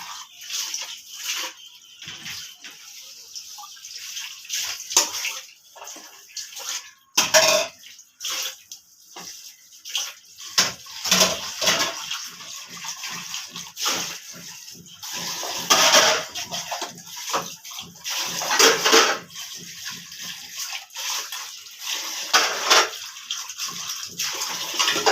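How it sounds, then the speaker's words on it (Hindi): Clean tap water runs and splashes as soaped dishes are rinsed at a village home, with water flowing continuously and dishes and cutlery clinking and knocking intermittently throughout, loud and close. "फिर हमने पानी के साथ, साफ पानी के साथ इसको धो देंगे"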